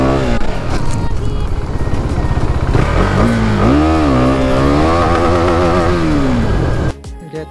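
Motorcycle engine running hard and loud for about seven seconds during a long wheelie, its pitch swelling and wavering with the throttle before cutting off abruptly near the end.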